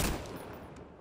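A brief burst of weapon fire from a low-damage but very accurate gun in Necromunda: Hired Gun, a quick loud volley that tails off within about a second.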